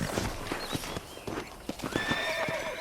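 Hooves clip-clop in a steady trotting rhythm while a horse whinnies in Red Dead Redemption, with a game-like ambient backdrop.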